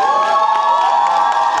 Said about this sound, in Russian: Аплодисменты, нужно больше